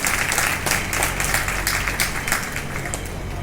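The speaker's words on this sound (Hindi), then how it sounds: "सभी स्टॉलधारी बहनों के लिए एक जोरदार ताली होना चाहिए।" Steady applause from the audience at a Nari Shakti Foundation anniversary celebration, honoring women stall holders; a dense, even wash of clapping fills the whole stretch without a break.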